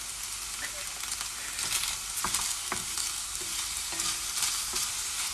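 Chicken stir-fries in a pan for a HelloFresh chicken and plum dish, with a steady sizzle and repeated scraping and clinking of a utensil stirring against the pan.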